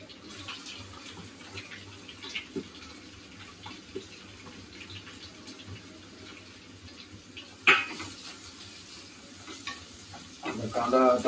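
Chopped onion sautéing with curry leaves in a pan for dal khichdi, a steady low sizzle with scraping stirs and a few sharp clinks, growing busier near the end.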